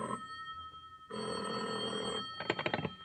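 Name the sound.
telephone ringing in a radio drama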